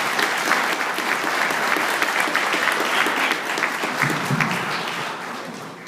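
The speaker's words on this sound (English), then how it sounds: "Let's give her a round of applause." The founding principal of Mill Creek Middle School is greeted with vigorous applause from a large audience, loud continuous clapping that stays strong for several seconds and then gradually fades.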